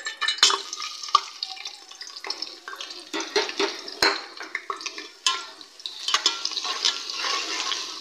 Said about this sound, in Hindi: हमने ये प्रेशर में आधा कप ऑयल डाल लिया है और इसके अंदर अब प्याज डालते हैं।